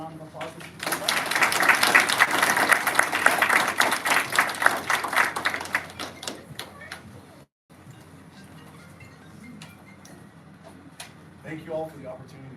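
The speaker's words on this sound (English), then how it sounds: "If you can give him a round of applause as he comes up." A crowd at a DARE school graduation claps for an arriving guest speaker from the New Mexico State Police, a dense burst of applause that swells over several seconds and then fades, with only faint scattered sounds and a little voice afterward.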